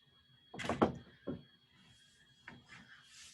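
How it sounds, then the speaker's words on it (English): A door swinging shut indoors, giving a close wooden thunk with a brief rub, then a fainter knock and soft scraping afterward. "Shut the door."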